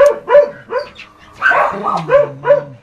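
A small dog barks repeatedly up close, sharp yips in quick bursts with a brief whining pause in the middle.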